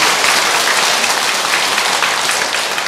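A temple audience applauds the Buddhist choir with loud, dense, continuous clapping throughout, no voices over it.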